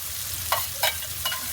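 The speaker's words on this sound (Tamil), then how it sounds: "இப்போ இந்த நேரம் நாங்கள் இடித்து வச்சுருந்த இந்த இஞ்சி உள்ளி பேஸ்ட்டையும் சேர்த்து கொள்ளுறோம்" Ginger-garlic paste frying in a pan with mutton, a steady close sizzle broken by three quick scraping stirs.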